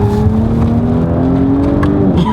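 A 2018 Audi S5 Sportback with Quattro all-wheel drive is driven hard, its engine droning loudly and steadily with pitch rising gradually under load, heard close from inside the car with no talking.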